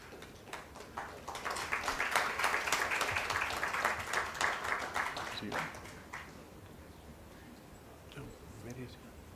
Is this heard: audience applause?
yes